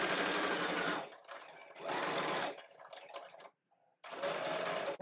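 Sewing machine stitching fabric panels of a costume, running in three loud bursts separated by short pauses, with a near-silent gap before the last run.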